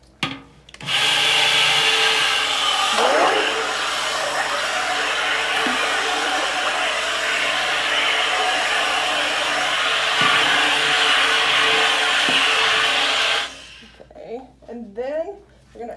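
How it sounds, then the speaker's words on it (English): An electric mixer whirs loudly and continuously for about thirteen seconds while blending lye for a large batch of cold process cinnamon and oatmeal soap, then cuts off, with a voice heard around it. "now that we have our lye, we are going to mix this up. Gonna take our mixer"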